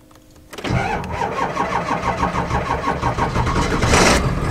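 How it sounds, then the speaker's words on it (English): A V8 diesel engine in a Volvo cold-starts with a sudden crank and catch, then chugs in a loud, rough, rhythmic idle close by. "There! Cold start! Listen to her chug."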